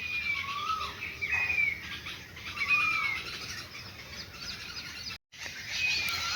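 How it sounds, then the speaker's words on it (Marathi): Birds chirp around a rural home in the early morning. High, clear whistled notes repeat every second or so over a quiet, steady background, with no talking. "पक्ष्यांची किलबिलाट"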